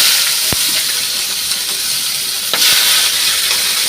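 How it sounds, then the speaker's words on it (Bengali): Chopped onions drop into hot oil already spiced with a whole dried chilli, cinnamon, cloves and cardamom, producing a loud, continuous sizzle up close, punctuated by two sharp knocks or stirs. "এর মধ্যে দেব কুচানো পেঁয়াজ।"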